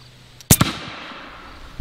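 An AEA Zeus .50 caliber air gun fires a single 275-grain round into ballistic gel: one sharp, loud report followed by a quick second crack of impact, then a fading ring-out and quiet.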